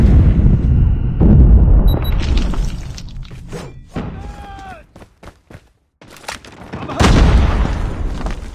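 A frag grenade detonates in Call of Duty with loud booming thuds and crashing debris early on, followed by quieter clicks, a short whistling tone and another burst of heavy noise near the end.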